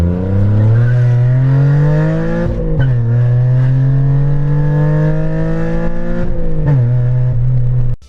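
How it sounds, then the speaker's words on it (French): A lightly modified fourth-generation Mazda MX-5 with a four-cylinder engine accelerates hard and loud, climbing through the revs with a sustained buzzing note, dipping briefly at two gear shifts before pulling on. "voici venir la Mazda MX-5 de 4e génération, légèrement modifiée"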